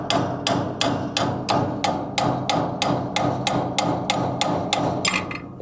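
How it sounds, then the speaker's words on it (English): A steel hammer drives a long punch against a roll pin on a Herd 750 broadcast spreader, about a dozen sharp metallic strikes in an even, steady rhythm, loud and close with no talk. "I got a longer punch to give me a little bit more angle with the hammer."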